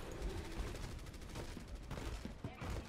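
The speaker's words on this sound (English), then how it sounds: "I didn't plan for the explosions that would happen, but I should have figured that they were going to happen near Junkrat" Overwatch battle noise near the hero Junkrat: a rapid, uneven string of gunfire pops and blasts at moderate distance, fairly quiet, with faint game sounds in the background.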